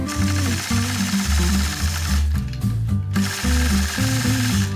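A sewing machine stitching hand-guided feather quilting runs in quick mechanical bursts whose pitch rises and falls with its speed, close and loud, briefly pausing midway before starting up again, with no voices over it.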